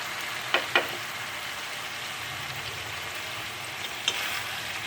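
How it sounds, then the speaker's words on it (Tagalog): Soaked rice stirred into hot oil in a pan while making chicken arroz caldo, giving a steady low sizzle with a few sharp scraping clicks from the spoon. "So let's mix it until the rice will be coated with the oil."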